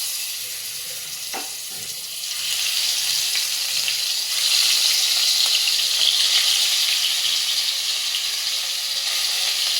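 Pieces of fish sizzle in hot oil for a fish and potato curry. A steady, bright frying hiss grows louder after a couple of seconds and then holds close and continuous.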